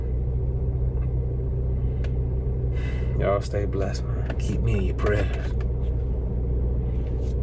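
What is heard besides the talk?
car engine idling, warming up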